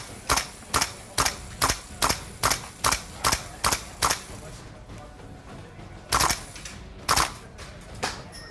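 A gas blowback airsoft DMR rifle, a Mega Arms 308, fired indoors: nine sharp evenly spaced cracks with metallic bolt clack, a pause, then two more shots and a faint click.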